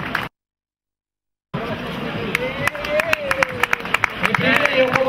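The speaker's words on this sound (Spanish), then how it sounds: "Un fuerte aplauso." Applause breaks out from an audience at a trophy ceremony for a San Silvestre race in Pontevedra, with sharp claps rising over crowd noise after a short silence, while an announcer speaks over it.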